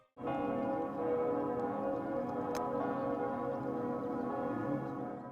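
Church bells of the Basilica of Our Lady of Peace, Yamoussoukro, ring out loudly and continuously, their overlapping tones blending into a rich, sustained peal with no voices.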